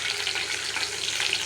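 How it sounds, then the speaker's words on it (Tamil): Curry leaves and dried red chillies fry in hot oil in a pan, giving a steady, close sizzle and crackle with no pauses. "லைட்டாக ஃப்ரை பண்ணிடுறோம்"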